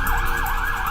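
Air raid sirens sound in Israel during rocket attacks, a loud continuous wailing tone that rises and falls steadily and fills the whole moment.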